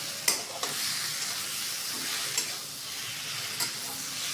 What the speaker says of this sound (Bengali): এখন আমি এর মধ্যে ভেজে রাখা বেগুনগুলো আস্তে আস্তে দিয়ে দেবো। দিয়ে আবারও নাড়াচাড়া।